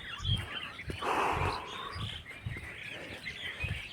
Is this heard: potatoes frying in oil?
no